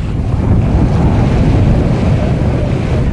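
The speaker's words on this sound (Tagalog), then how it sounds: "kaya rumaragasa yung tubig sa lugar na to" Floodwater from a river rushes through a flooded community in a steady, loud, broadband roar with wind buffeting the microphone, continuous throughout and with no voices.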